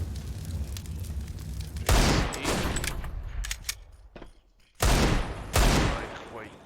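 Rapid bursts of gunfire in the tactical shooter CS:GO during a tournament match, with sharp, loud volleys at separate moments and quieter game noise in between.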